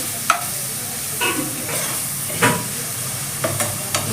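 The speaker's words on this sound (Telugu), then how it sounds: "ఉల్లిపాయ మంచిగా వేగాలి." Onions fry in a pan with a steady sizzle close by. Several sharp scrapes of stirring break in at irregular intervals.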